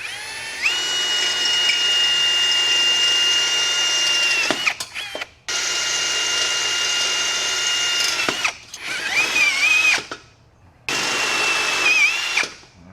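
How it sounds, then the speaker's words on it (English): A Ryobi drill drives screws in a shop setting, with several long whirring runs separated by brief pauses and short bursts, loud and close with no talking. "This Ryobi drill is the bomb,"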